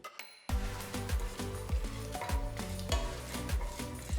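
Red chilies and whole spices (fenugreek, fennel, kalonji) hit hot mustard oil with a sudden loud sizzle that crackles steadily while a spoon stirs in rhythmic scrapes, close, with no talking.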